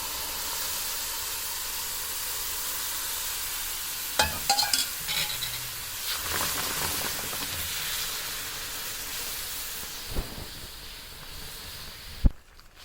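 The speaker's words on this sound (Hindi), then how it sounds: "अब चाश को इसमें मैं छान के डालूंगी कि इलायची ऊपर रह जाए" Warm sugar syrup strained into corn halwa in a pan with the flame off, giving a steady soft hiss and sizzle with spoon stirring and a few sharp metallic clinks and scrapes near the end.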